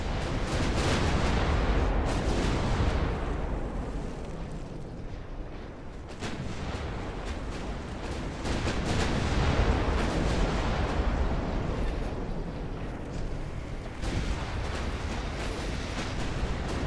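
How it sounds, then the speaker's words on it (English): Battleship naval artillery fires continuously in the naval warfare game Ultimate Admiral Dreadnoughts, a dense rolling barrage of heavy booms and blasts with no pause. "And we'll form up our battle line and just throw shells in their direction."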